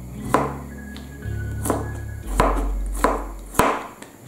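A knife cuts thin slices through broccoli stems on a cutting board, giving about six sharp, evenly spaced chops close up, with a low hum in the background and no talking.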